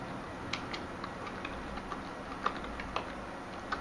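Fingers typing on a computer keyboard while installing Minix 1.7.5 in VirtualBox, irregular soft key clicks with a few louder taps, close and alone.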